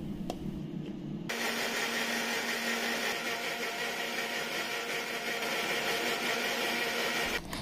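A blender whirs steadily, blending mango chutney with a little milk plus chili flakes, thyme and black salt; the motor starts abruptly after a quiet second and runs loud and continuous to the end, with no speech.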